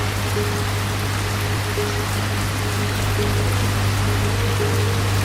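Light drizzling rain falling at night, a steady even hiss of fine drops with a constant low hum running underneath, no voices.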